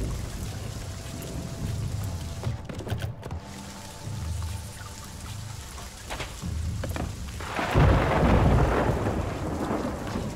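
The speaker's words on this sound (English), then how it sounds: "lightning just hit me." A thunderstorm in the pirate game Sea of Thieves, with steady pouring rain, rumbling thunder, and a heavy crash of a lightning strike building up loudly toward the end.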